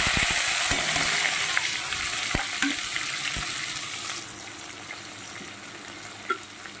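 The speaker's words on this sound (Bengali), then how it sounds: "এই পর্যায়ে আমি দিয়ে দেব কেটে রাখা পেঁয়াজ আর টমেটো, আমি একসঙ্গেই দিয়ে দেব" Chopped onion and tomato hit a pan of hot tempered spices, giving a loud, dense frying hiss that gradually settles into a quieter sizzle, with scattered light stirring taps and a late utensil knock.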